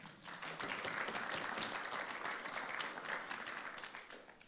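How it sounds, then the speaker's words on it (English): A crowd of shoebox gift volunteers in San Gabriel Valley gives itself a hand, a sustained wash of many clapping hands that swells and then tapers off over several seconds, heard alone without talk. "So give yourself a hand clap."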